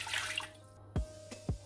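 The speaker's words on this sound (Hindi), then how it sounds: "गिलास पानी ऐड करूँगी।" Water is poured into a pressure cooker while shami kabab is being made in a home kitchen, giving a short splashing pour followed by two or three distinct drips, close and fairly quiet.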